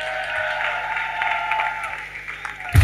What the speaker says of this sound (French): je vous demande d'applaudir et d'accueillir notre président, Paul Magnette.